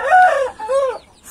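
A young rooster and a hen on a farm, the cockerel crowing twice in strained, rising calls while the hen clucks nearby, loud and close with no voices over it.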